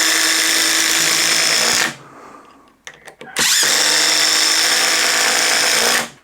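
A Ryobi HP impact driver sinks 3.5 inch deck screws in two long, loud, close hammering bursts, separated by a short pause with a few sharp clicks.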